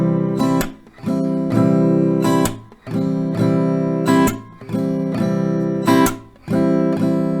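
Acoustic guitar strumming a repeating chord pattern, loud and close, with rhythmic down and up strokes broken by short pauses, played alone.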